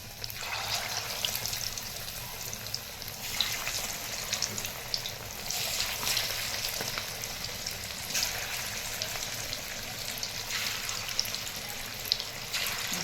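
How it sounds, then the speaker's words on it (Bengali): Bone-in chicken pakoras frying in hot oil in a kadai, a steady, fairly faint crackling sizzle that runs throughout with little change. "আর এখানে তেলও গরম হয়ে গেছে। একটা একটা করে দিয়ে দেবো তেলের মধ্যে।"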